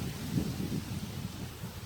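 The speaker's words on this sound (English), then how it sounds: "It is very windy here." Low, rumbling wind buffets the microphone in uneven gusts, steady and fairly loud, with no other sounds standing out.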